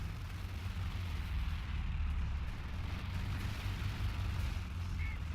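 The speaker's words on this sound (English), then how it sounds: "artillery is being brought down on them" Artillery fire rumbles continuously in a Battle for Caen war game, with dense low booms and blasts rolling together as a steady, loud barrage beneath faint voice-like sound.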